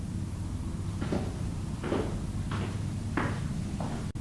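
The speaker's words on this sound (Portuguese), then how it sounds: "Bater de portas, arrastar de cadeiras." A handful of dull knocks and scrapes, like doors shutting and chairs being dragged, sound in a mostly silent album track. Four or five separate thumps rise at irregular intervals over a steady low hum.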